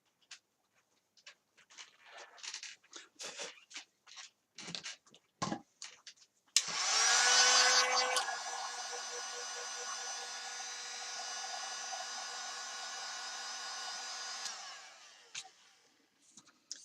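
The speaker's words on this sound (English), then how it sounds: "You can speed up the drying process a bit with a heat gun." A heat gun blowing on drying glue on a toy pirate sword starts abruptly after some faint handling noises, then runs as a steady loud whooshing whine for about eight seconds before cutting off.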